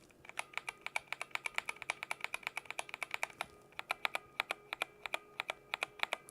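Clacky keystrokes on a computer keyboard with a ringing quality, typed at a steady brisk pace, each sharp click distinct and close, no voices.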